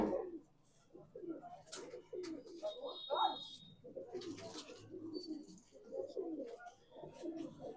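Punjabi Madrasi pigeons coo repeatedly in low, throaty bursts, with occasional chirps and a voice talking over the flock throughout.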